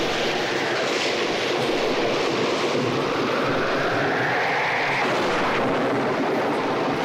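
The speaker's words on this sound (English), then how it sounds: "What's that noise? It looks like a flash flood." A flash-flood sound effect from a 1979 Universal Studios Hollywood tour record: a continuous, loud rushing roar with a rumbling low end, steady for several seconds with no voices.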